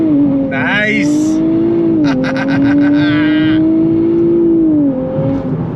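A 2026 Nissan Z Performance launches from a dead stop, its engine note climbing loudly, dipping at gear changes through the 9-speed, then climbing again, with a brief spoken word near the start.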